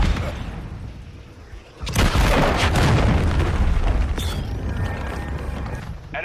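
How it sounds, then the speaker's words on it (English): A cruise missile explodes in a military shooter video game, a sudden loud broadband boom hitting about two seconds in and rumbling on with crackling debris, following a quieter stretch of ambient battlefield noise. "Hostile launched a cruise missile."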